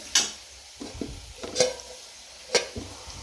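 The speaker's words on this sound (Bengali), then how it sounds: "এখানে আলুটা ভাজা হচ্ছে" Gentle sizzle of potatoes frying underneath a few sharp spatula taps and scrapes against the pan at irregular intervals.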